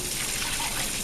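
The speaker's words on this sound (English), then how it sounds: "I'm going to put 3 cups of water in." Water pours steadily into a pot of washed rice, a short, continuous gushing splash at close range.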